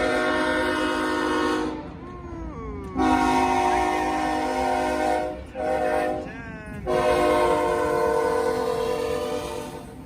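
A freight train hauled by BNSF, CP and UP locomotives sounds its horn in long, loud, close blasts with brief gaps, over the constant rumble of the passing engines and cars.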